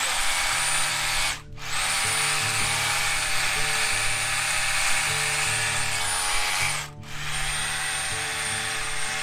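A power drill fitted with a smaller bit whines at high speed while enlarging a hole during a boat restoration. It runs in two long sustained bursts separated by brief pauses, loud and close, with no talking.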